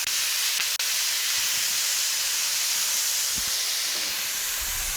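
Drained sauerkraut warms on a hot Blackstone griddle, giving off a loud, constant steamy hiss from start to finish, with a sharp clink near the beginning and faint scrapes later.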